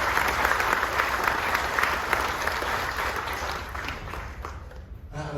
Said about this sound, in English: a huge round of applause for the United States Public Health Service